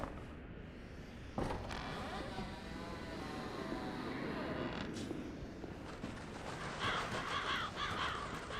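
Crows caw in a dark fantasy game world, a few harsh calls over a steady ambient rumble, with a voice talking at times.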